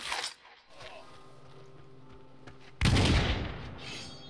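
Gunshots in the video game War of the Roses: a sharp loud blast near the start, a quieter stretch of game ambience, then a second heavy, close shot that booms and fades over the last second and a half.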